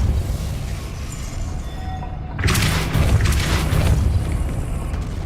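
Depulso spell cast in a Harry Potter video game: a sudden whooshing burst over steady background noise, sustaining as a broad rushing swell for a few seconds after the onset.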